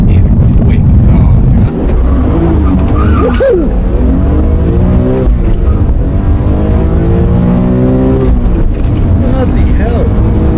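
A BMW E46 M3 engine accelerating hard, its loud revving rising and falling through the gears with some tire squeal, close inside the car, with people talking over it.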